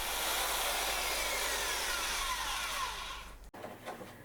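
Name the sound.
belt sander on wooden hull strip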